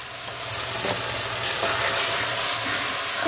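Figs being stir-fried in a pan with ground cumin and dried red chilli paste, salt and turmeric: a steady, close sizzle with faint scraping of the stirring, no talk.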